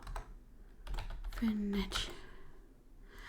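Computer keyboard keys click in quick irregular bursts while typing, fairly close, with a voice speaking over part of it.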